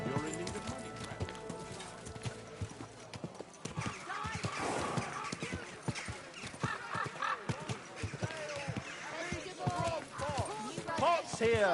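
Horse hooves clip-clop steadily in Kingdom Come: Deliverance 2, a medieval role-playing game, with a horse whinnying now and then while characters talk over the rhythmic trotting throughout.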